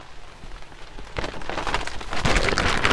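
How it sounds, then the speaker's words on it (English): Steady rain patters on a surface, growing louder and denser with scattered sharper drops, close by and without voices. "It is raining"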